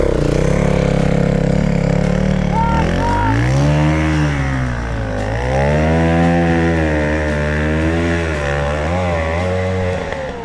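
A small enduro dirt bike engine revs hard and close on a climb, its pitch climbing and dipping repeatedly as the throttle opens and eases.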